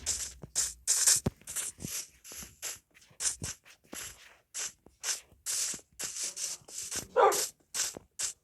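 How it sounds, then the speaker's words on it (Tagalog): A dog barks in Minecraft: a rapid string of short, sharp, close barks in uneven bursts, with a few clicky game noises mixed in. "May aso na naman."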